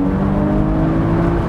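A Porsche Boxster engine pulls steadily on a bumpy mountain road, a close, sustained, even engine tone with no talk over it.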